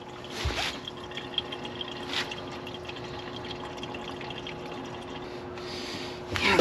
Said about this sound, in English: Now we're going to drain some of this fuel out, see if we can get any water out of here